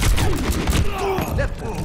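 Rapid gunshots from the Overwatch video game fire in a dense, steady barrage with dull thuds mixed in, loud and continuous throughout.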